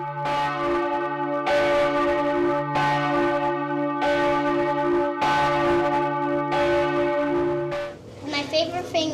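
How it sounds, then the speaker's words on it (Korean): Large church bells, one nearly 800 years old, ring at noon inside a tower in the Black Forest, Germany. Up close, loud strikes repeat in steady slow rhythm with long humming tones, then voices come in at the end. "정오에 맞춰 첨탑에 오른 건 이 종소리를 듣기 위해서죠."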